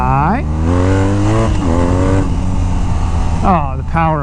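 A 2023 BMW R nineT Pure motorcycle engine revs hard and loud up close, with rising and falling pitch sweeps as the rider shifts through gears, then climbs again at the end.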